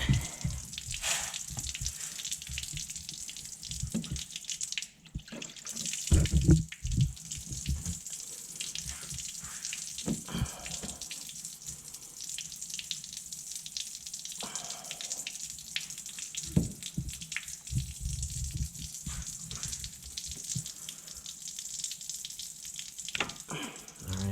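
Windshield washer fluid pouring out of the open reservoir of a Hyundai Santa Fe during a washer pump replacement, a steady trickling splash that runs throughout, close by, with brief bumps and handling noises.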